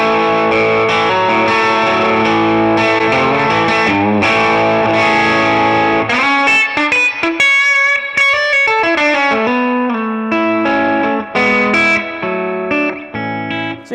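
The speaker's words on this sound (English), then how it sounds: "I've got a cleanish sound. This is kind of my normal clean tone. It's not crystal clean. It's got a little bit of gain to it" Electric guitar from Rock and Roll Relics played through a clean amp tone with a little gain at full volume and full tone, bright, loud and continuous chords and single notes, alone.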